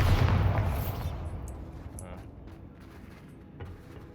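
A Bombarda blasting spell goes off in Hogwarts Legacy, a loud booming explosion at the start that rumbles and decays over several seconds into a low, fading tail.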